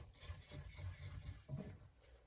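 A spatula scrapes down the side of a mixing bowl of gingerbread cake batter, making quiet, close rasping rubs in a quick series of strokes.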